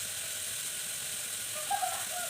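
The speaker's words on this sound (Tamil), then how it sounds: "அதனால் வந்து வெங்காயம் வந்து நல்லா வதக்கிக்கோங்க." Onions sautéing in a pan for kurma give a steady, faint hiss of frying throughout, close but quiet, with no voices.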